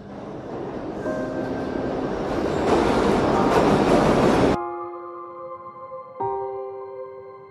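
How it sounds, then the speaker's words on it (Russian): A train pulls into a station with loud, steady rumbling rail noise that cuts off abruptly, followed by a sustained tonal hum and a second swell of sound near the end. "Мой поезд прибыл."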